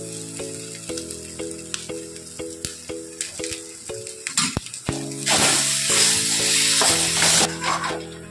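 Mashed potato with turmeric sizzles and fries in a pan for a rava masala dosa filling, a steady hiss under repeated scraping and stirring taps, building to a louder, denser sizzle partway through, with no one speaking.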